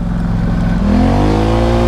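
An off-road vehicle accelerating down a straightaway in a private sand pit, its engine loud and close, the roar rising steadily in pitch as it pulls hard.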